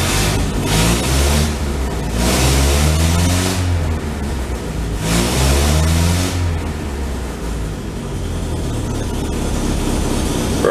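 An old 1950s Morris Oxford engine revs up twice in loud surging bursts, then settles back to a rough, rumbling idle.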